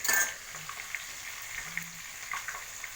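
Katla fish fries in oil in a pan, a faint steady sizzle near the cook, broken by a few light clinks of a utensil against the pan and a brief louder crackle at the start.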